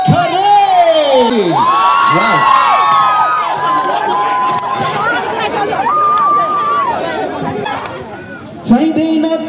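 A concert crowd in Birtamode cheers and whoops loudly as a popular singer is welcomed onto the stage, with shouting and chatter sustained throughout and a brief burst near the end.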